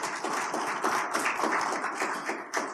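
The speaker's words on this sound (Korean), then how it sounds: "여러분들이 박수 쳐주시면 더 좋겠습니다." An audience at a Korean provincial government town-hall style event breaks into applause: dense, steady clapping from a crowd, moderately loud and continuous, with no speech on top.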